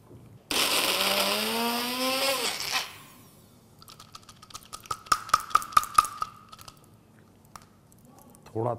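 A kitchen blender grinds a peanut chutney mixture in one loud burst of about two seconds, its motor pitch sliding as it runs, followed by a series of sharp clicks and taps.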